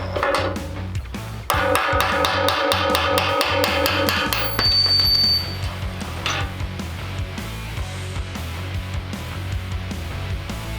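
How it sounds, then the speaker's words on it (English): A metal punch is hammered to drive a pressed pin out of the clamp from a Harbor Freight pipe threading tool, giving a fast run of sharp ringing metallic blows, then quieter clinks and mechanical handling, with no talking. "Use a punch to remove the pin pressed in the clamp that came with the pipe threading tool."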